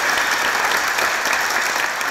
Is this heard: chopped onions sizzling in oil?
no